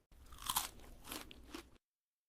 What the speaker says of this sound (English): I chew my food.